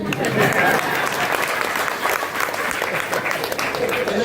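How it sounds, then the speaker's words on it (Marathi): A crowd claps at a Marathi political speech, sustained dense applause throughout with some voices audible underneath. "टाळी पण वाजवणं झाले"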